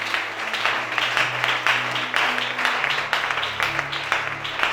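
Congregation applauding during a church worship service, sustained clapping with rhythmic bursts over a low hum of music or organ, fairly loud and continuous without clear speech.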